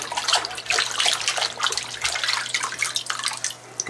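Water splashes and trickles as dirty paracord is washed in a bowl, a continuous close, busy sloshing with small drips and no voices.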